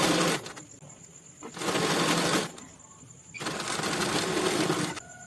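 A sewing machine stitches a kaftan kurti in loud, steady bursts, with three long runs of rapid needle chatter and short quiet pauses between them.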